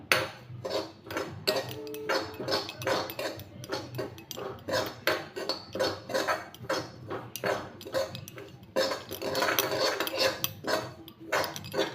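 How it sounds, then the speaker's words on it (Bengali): Desiccated coconut being dry-fried and stirred in a pan, a rapid series of metal spatula scrapes and taps against the pan in an uneven rhythm, close and moderately quiet, with no talk. "এইভাবে একটু ভেজে নিচ্ছি"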